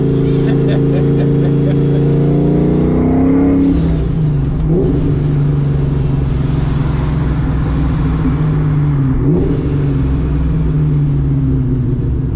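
A 1998 Ford Mustang Cobra's exhaust rumbles loudly from inside during a ride, the engine note holding steady and then swooping as the revs drop and rise again, with the rumble continuous throughout.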